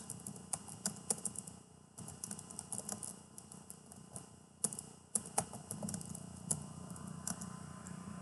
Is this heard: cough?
no